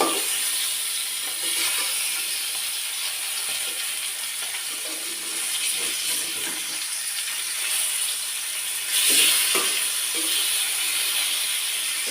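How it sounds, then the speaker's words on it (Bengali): Fish frying crisp in hot oil in a Bangladeshi home kitchen makes a steady, fairly loud hiss, with a brief louder burst near the end. "তেলটা ভালো মতো গরম হলে মাছটা মেটে উঠে যাবে"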